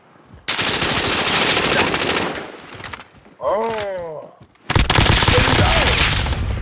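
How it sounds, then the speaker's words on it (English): Video game battle gunfire crackles in long rapid automatic bursts, close and loud, broken by a short pause where a man gives brief startled exclamations before the shooting resumes. "Somebody's firing to the left."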